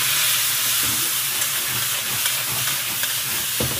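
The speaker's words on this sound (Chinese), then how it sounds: "先给它放这个番茄" Tomato frying in rice bran oil in a home wok. The sizzle is a loud, steady hiss that fills the moment with faint stirring scrapes, and no one speaks.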